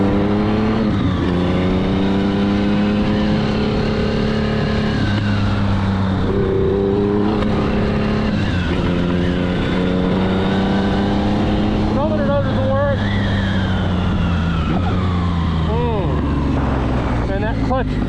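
A BMW K-series motorcycle engine hums steadily while riding, its pitch rising and falling with throttle and gear changes, loud and close with a rider talking over it.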